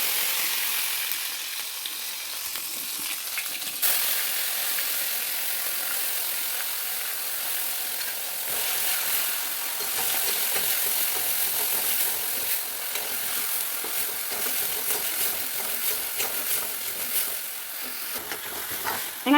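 Onions sautéing in hot oil for a chicken gravy, a steady close sizzle and hiss lasting throughout with occasional stirring scrapes, loud and continuous with no voices.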